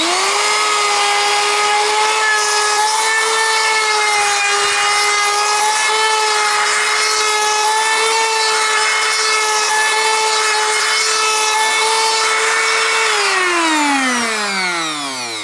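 A router cuts freehand into the wood body of a Fender FMT Telecaster for a tremolo cavity, giving a loud, continuous high whine that holds steady and then spins down as the motor stops near the end.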